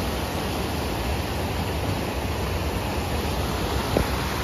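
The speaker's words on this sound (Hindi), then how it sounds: "कैसा पानी है, बढ़िया से पानी जा रहा है।" Steady rushing of water flowing over the Kolonga irrigation waterfall in Assam's West Karbi Anglong, a dense, constant roar that fills the scene with no voices.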